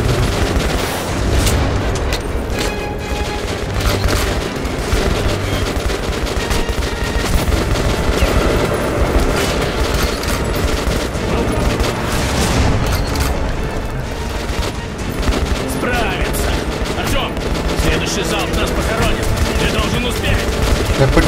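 Gunfire from shooting at enemies in the video game Metro Last Light Redux: dense, continuous automatic fire and bangs, loud and close, with the odd boom mixed in throughout.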